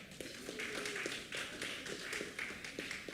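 Scattered applause from an audience at a political party's annual constituency meeting in Barbados, a few sparse, irregular claps close by over a low room background.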